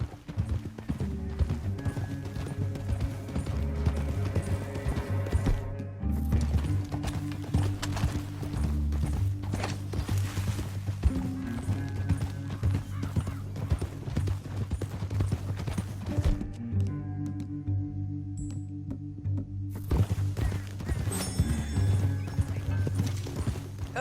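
Horses gallop in the Red Dead Redemption 2 video game: a steady, close clip-clop of hooves runs throughout, with occasional neighs and brief quieter gaps.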